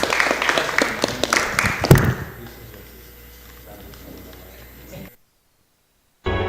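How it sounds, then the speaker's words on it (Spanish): Audience applause after a talk on energy reform and human rights, a burst of clapping in a hall that peaks and then fades quickly into quiet room tone before a brief silence. "démosle un fuerte aplauso otra vez"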